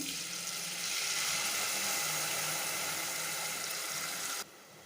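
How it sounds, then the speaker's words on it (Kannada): Water poured steadily into a pot of rasam while cooking, a continuous close rushing splash lasting several seconds and then stopping abruptly. "ನಿಮ್ಗೆ ಎಷ್ಟು ಬೇಕೋ ಅಷ್ಟು ನೀರು ಹಾಕ್ಕೊಳ್ಳಿ"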